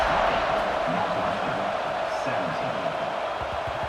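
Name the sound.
stadium crowd cheering at kickoff in a college football video game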